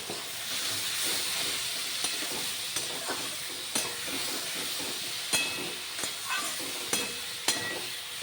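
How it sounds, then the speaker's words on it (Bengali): Ridge gourd stir-fries with poppy seed and green chilli paste and a pinch of turmeric, giving a loud steady hissing sizzle close by, with periodic sharp knocks and scrapes of a spatula against the pan. "নাড়াচাড়া করে কষিয়ে নেব।"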